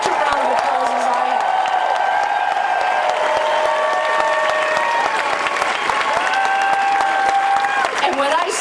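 Audience at a talk breaks into loud, sustained clapping with some cheers and whoops, while a voice continues speaking over the crowd noise.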